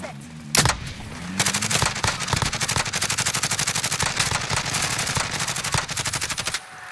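Automatic gunfire in a video game, with long rapid bursts of loud, closely spaced shots that continue almost without a break after one sharp opening blast.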